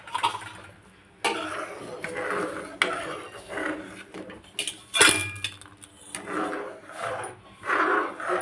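Cashews, raisins and coconut fried in ghee are stirred into poha for aval payasam, a spoon scraping and clinking against a pan in irregular close strokes, with no one speaking.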